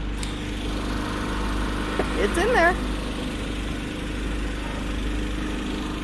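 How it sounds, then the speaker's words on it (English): A portable generator runs out in a field during a bus build, a steady low engine hum droning throughout under someone talking nearby. "you probably can't hear me over the generator"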